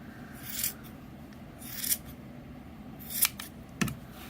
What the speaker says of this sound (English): now we start the cutting and the trimming. So all those loops we cut in half.